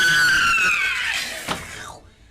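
A person imitates a panther's scream, a high, drawn-out shrieking cry that falls away and ends abruptly, loud and close, with no other talk.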